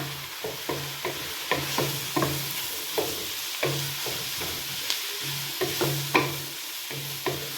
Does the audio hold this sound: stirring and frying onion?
yes